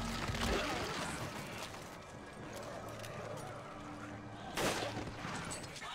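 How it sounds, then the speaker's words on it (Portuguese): Gunshots in Resident Evil 5 taking down an enemy: a sharp shot near the start and another loud crack near the end, over quiet ambient game noise at low level. "Aqui o tiro já acaba com o inimigo."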